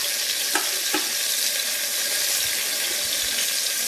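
Curry leaves sizzle in hot oil for a spicy oatmeal dish, giving a steady bright crackle with a couple of sharp pops near the start and faint clinks of a utensil.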